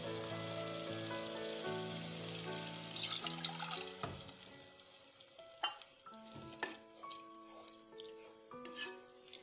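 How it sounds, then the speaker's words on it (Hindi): Milk poured into a pan of roasting vermicelli for sheer khurma, giving a steady broad hiss and sizzle with liquid splashing, close and fairly loud, with tonal hum and brief clatter of stirring throughout. "अब इसके अंदर हम दूध ऐड करेंगे।"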